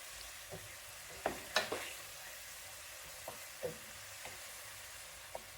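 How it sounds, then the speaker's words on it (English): A spoon stirs a rice base frying in oil in a pan on a home stove, soft scraping strokes over a faint steady sizzle, with a few sharper clinks and pops, quiet and close. "Then checked on the base for the rice and just stirred it a bit as well to make sure it wasn't burning."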